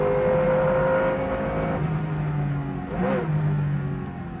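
Camel GTP prototype race car at Road Atlanta heard from inside the cockpit, its loud engine droning steadily, dipping briefly as it shifts through gears at high speed.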